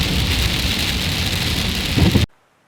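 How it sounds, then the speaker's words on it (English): Steady rain falls in the hills, a dense, loud hiss of drops close by that cuts off abruptly near the end, with no voices. "we're up in the hills on a beautiful rainy day."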